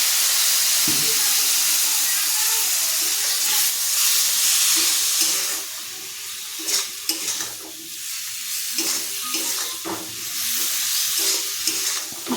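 Water poured into a hot pan of cooking tomatoes bursts into a loud, steady hissing sizzle that holds for several seconds, then breaks into spattering crackles and stirring scrapes as it settles.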